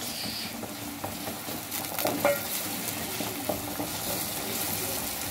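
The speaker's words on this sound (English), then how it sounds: "so I'm adding in my ginger crushed ginger" Crushed ginger frying in a pan for a minced-meat spaghetti bolognese, a steady, close sizzle with a few brief clinks and scrapes of stirring, no voices.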